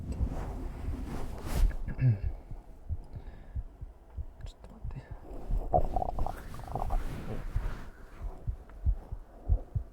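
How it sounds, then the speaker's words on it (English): Stomach gurgles and digestion rumbles picked up close on a sensitive microphone, faint low churning and bubbling with occasional soft squelches, steady throughout with no clear talk. "That's the sound of digestion."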